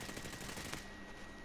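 Gunfire in a video game comes as a short, rapid burst of automatic shots that stops after under a second, fairly quiet with no talk.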